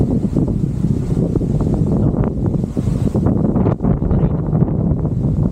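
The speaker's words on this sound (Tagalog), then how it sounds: "Grabe lakas ng hangin ngayon." Strong wind at Candle Monument buffets the microphone in a steady, loud low roar with gusty surges and brief dips, no voices over it.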